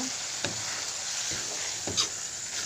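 Milk poured into melted sugar in a pan while making suji ladoo, giving a steady close sizzling hiss broken by a few soft stirring scrapes and taps.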